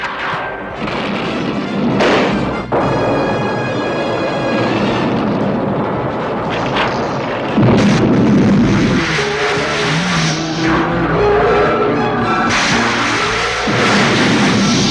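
Cartoon magnet grenade explosions boom and thud loudly amid dense, continuous roaring battle effects and whining tones, one sharp burst standing out partway through, with no speech.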